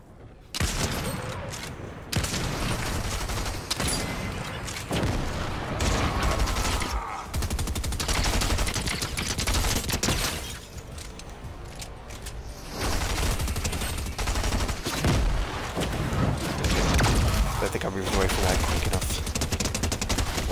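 Gunfire crackles almost continuously through a Fortnite solo match, with rapid bursts and brief pauses, and a player's voice can be heard over parts of the shooting.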